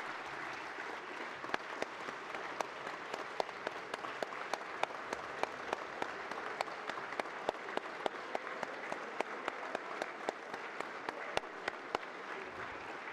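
Sustained applause fills the chamber of Ukraine's parliament for Patriarch Filaret, a dense, even wash of many hands clapping at moderate distance, with sharp individual claps standing out throughout and no speech over it.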